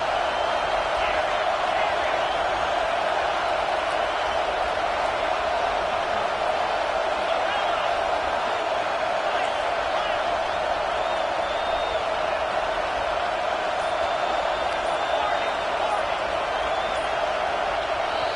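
Loud, constant roar of an LSU football stadium crowd on a third down, a dense unbroken wall of cheering and noise with no pauses.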